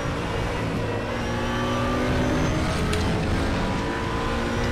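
A GT3 race car in the RaceRoom racing game passes close by, its engine and exhaust roaring loud and steady with a spluttering edge, rising slightly as it goes past.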